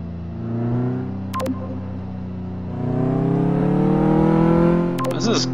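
A car engine drones steadily with rising and falling revs as it drives a test track in Car Mechanic Simulator 2015, with a couple of brief clicks over the continuous motor hum.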